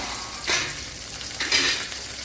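Mustard seeds, garlic, ginger and green chili fry in hot coconut oil in a pan for an egg masala, a soft steady sizzle with two brief louder bursts of stirring and spattering, no voices.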